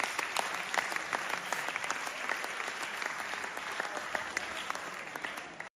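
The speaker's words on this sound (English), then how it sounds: "It's a golf clap." A gathering of Bears and Packers fans gives a steady patter of polite golf-clap applause, many hands clapping close and fairly soft throughout, with no talk over it.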